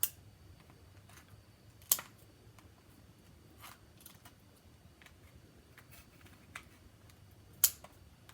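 Several sharp snips of scissors cutting through lobster legs, spaced irregularly, close and fairly quiet against a hushed background.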